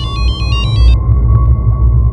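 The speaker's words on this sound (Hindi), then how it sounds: "लैंडलाइन नंबर से फ़ोन आया" A telephone rings with a call from a landline in a Hindi TV serial, a loud electronic trill in several quick bursts that stops abruptly, leaving a steady tone under low background noise.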